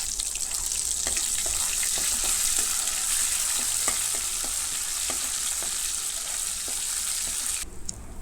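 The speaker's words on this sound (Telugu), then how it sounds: "అల్లం పేస్ట్ వేసుకొని ఫ్రై చేసుకున్నాం." Ginger paste fries in hot oil with curry leaves and green chillies, producing a steady close sizzle broken by occasional light stirring taps against the pan, with no speech.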